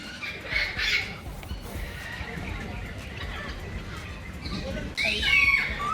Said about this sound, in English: the sounds of birds are prominent as you walk around the Bali Bird Park